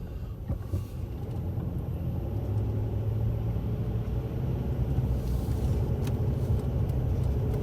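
A car rolls along the Las Vegas Strip, its interior filled with a steady low road rumble and engine hum that holds evenly throughout, with no talking.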